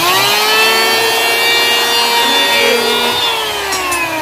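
An electric planer cuts wood with a loud, steady high-pitched whine and grinding buzz, close and continuous for the whole stretch, no talking.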